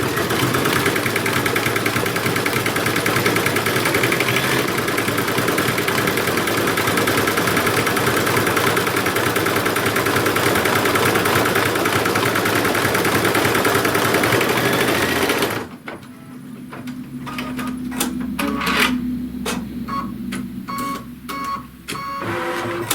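An embroidery machine stitches a Father's Day wallet with a loud, fast, continuous mechanical rattle that suddenly stops, leaving quieter handling clatter and clicks.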